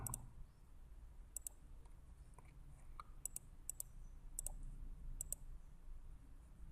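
Sharp, quiet mouse clicks land singly and in quick pairs at irregular intervals over a low background hum, while an API app is set up in a web portal.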